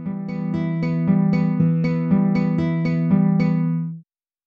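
A synthesized acoustic guitar patch from a SunVox multi-synth, pitched up an octave, plays a steady run of bright plucked notes over a sustained low tone for about four seconds, then stops abruptly.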